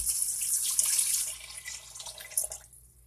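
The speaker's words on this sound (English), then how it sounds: "So now I'm going to put in 3 cups of water." Tap water runs steadily into a cooking pot for yellow rice with pigeon peas, a continuous close hiss and splash that stops near the end.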